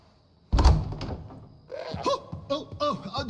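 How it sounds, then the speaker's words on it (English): A door is kicked in with a single loud thud inside an Assassin's Creed Odyssey game scene, and voices speak right after the impact. "Open this door or I'll kick it in!"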